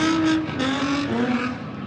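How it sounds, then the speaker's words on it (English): Cars at a street takeover in downtown Los Angeles, engines revving and tires spinning and burning rubber, heard as a loud continuous roar with a rising and falling engine tone over a couple of seconds. "Engines revving, vehicles spinning, rubber burning."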